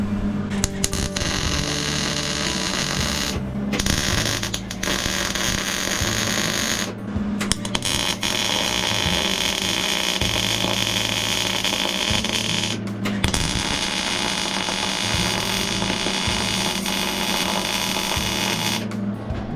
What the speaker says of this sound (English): we'll just go ahead and tack these in real quick